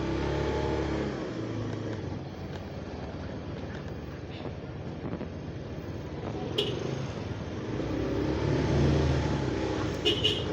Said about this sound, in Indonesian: Ada mobil cuy.